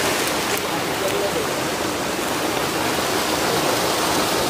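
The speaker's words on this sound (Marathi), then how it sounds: "ह्याच्या इथून पाणी जातो खालती." Water rushing down at Tulashi dam, a steady broadband roar of flowing water, constant and fairly close throughout with no break.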